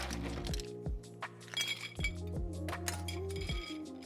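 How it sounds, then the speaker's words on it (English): Ice cubes clink and knock into a cocktail glass, a run of sharp glassy taps and rattles close by with a low steady hum underneath. "And now I can add the ice."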